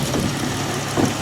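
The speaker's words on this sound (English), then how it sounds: "Oh, listen to that. It's got some knocking going on." A Dodge Challenger engine idles close by with a steady, rough rumble and an uneven knocking running through it, no talking.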